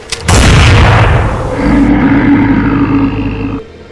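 A single loud shotgun blast bursts out and booms in a forest, its heavy rumble rolling and fading away over a few seconds.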